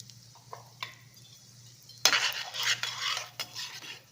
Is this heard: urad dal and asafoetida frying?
yes